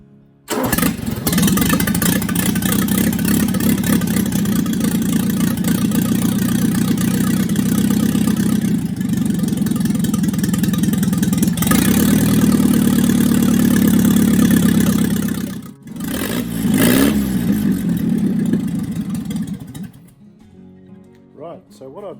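A Morris LC car engine runs with the choke fully on, a loud, close, steady rumbling idle that lasts about twenty seconds, briefly dips partway through, then cuts out at the end.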